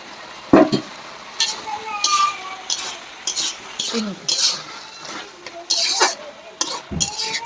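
Fish heads are added to spinach cooking in a pan and stirred, with irregular scrapes, clinks and knocks of the utensil against the pan over a light sizzle.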